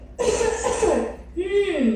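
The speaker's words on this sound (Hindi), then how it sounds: "लग गई तुझे भी खांसी।" Two harsh, raspy coughs sound up close, loud and throaty, the second one rising in pitch slightly.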